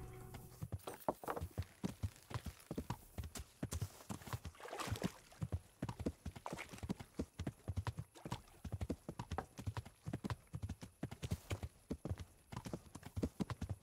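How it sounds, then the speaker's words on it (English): Rapid, steady clip-clop of a horse galloping in the video game Kingdom Come: Deliverance, hoofbeats loud and close throughout, with a brief whinny-like sound early on. "Go, horsey."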